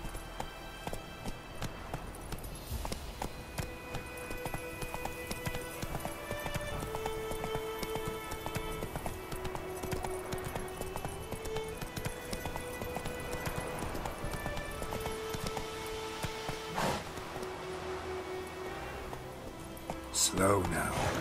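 Horse hooves gallop in The Witcher 3 video game, a steady rapid clip-clop rhythm running throughout beneath game music and a rider's occasional voice, ending with a brief louder burst.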